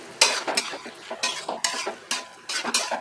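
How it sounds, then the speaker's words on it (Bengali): Chicken pieces coated in spice masala are stirred in a pan for chicken khichuri, with loud, rhythmic scraping strokes of a spoon against the metal over a soft sizzle, about six strokes in quick succession. "দিয়ে এবার কিন্তু মশলাটাকে চিকেনের সাথে ভালো করে মিশিয়ে নিচ্ছি।"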